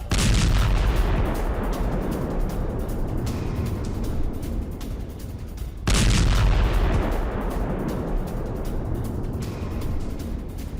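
News footage of strikes on Leopard 2 tanks gives two heavy booming blasts, each followed by a long roaring rumble that slowly fades, loud and continuous with no talk.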